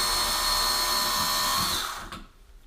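An electric screwdriver whirs steadily while backing out the screws of a home outlet during a light switch replacement, a close continuous motor whine that winds down and stops after about two seconds.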